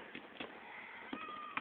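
Several short, high kitten meows come in irregular bursts at close range against a quiet indoor background, with the last cries rising sharply.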